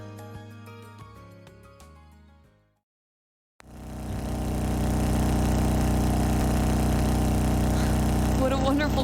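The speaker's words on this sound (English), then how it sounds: "The vibration of the engine reminds me of a lion's purr." Motorbike engine idling in the video game Trails of Cold Steel, a steady low rumbling drone that starts abruptly after a brief silence, following a stretch of game music.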